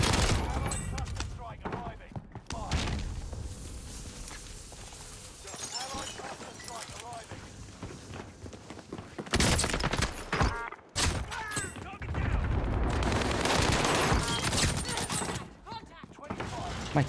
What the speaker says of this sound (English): My teammate using a nail gun, bro.